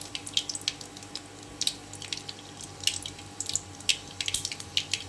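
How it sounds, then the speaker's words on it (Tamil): Rapid, irregular crackles and pops of mustard seeds spluttering in hot oil, faint and close over a low steady hum. "கடுகு நல்லா பொரியட்டும்."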